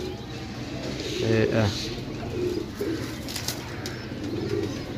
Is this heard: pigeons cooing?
yes